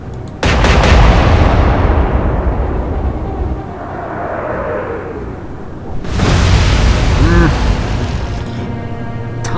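Naval guns aboard a warship fire in an Atlantic Fleet battle between the Royal Navy and Kriegsmarine, two heavy booming blasts spaced several seconds apart, each followed by a long rumbling roar, with a brief voice heard near the end.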